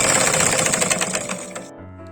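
A sewing machine stitches a child's frog dress, its rapid needle clatter running loud and close for under two seconds before it stops and only a low hum remains.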